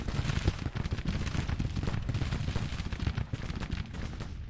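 Continuous rumbling volleys of cannon and musket fire from a Civil War battle game, a dense, steady barrage of booms and cracks with no pauses, sounding fairly close and loud throughout.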